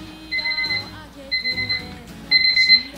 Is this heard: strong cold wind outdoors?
no